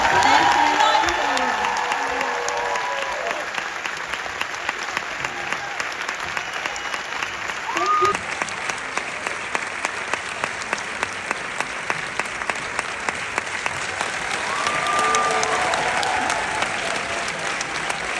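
Applause at the Copenhagen gala for It Ends With Us, honouring Blake Lively and Isabela Ferrer: a large crowd claps steadily and loudly for the whole stretch, with light cheering mixed in and a voice briefly heard over it.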